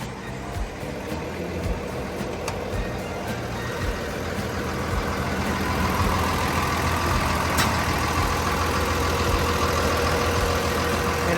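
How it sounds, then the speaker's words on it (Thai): The six-cylinder turbo diesel engine of a Komatsu WA470-7 wheel loader starts and rumbles at a steady idle, loud and close, its low drone building slightly as it settles. "เดี๋ยวเราเปิดเครื่องให้ดูนะครับ"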